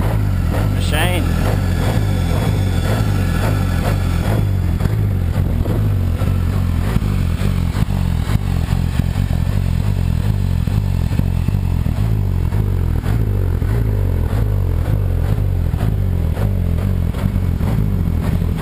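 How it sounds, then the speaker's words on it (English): Peugeot rally car with an XR5 engine, the UK version of a concept engine, running at a park, a loud steady low mechanical drone with clatter throughout, with voices talking over it. "What motor you got running in it?"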